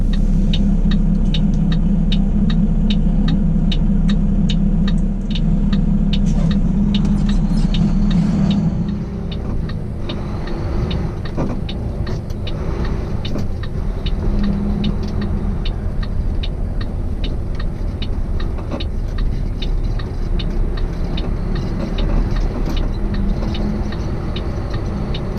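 A truck engine rumbles steadily from inside the cab while driving in traffic, with a deep, throbbing hum. Ticking and clicking sound early on, then the drone softens slightly as the truck slows for a turn.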